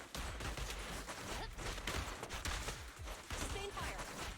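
Rapid, sustained gunfire from Zhu Yuan's continuous firing attack in Zenless Zone Zero, a dense barrage of loud bursts with no gap across the whole stretch, layered with game effects.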